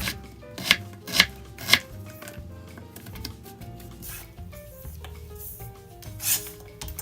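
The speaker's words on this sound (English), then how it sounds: "I chop down and cut this way" A kitchen knife chops jalapenos and tomatoes on a cutting board: three sharp, close chops in quick succession, then softer scraping cuts and one more chop, with faint tonal sounds in the background.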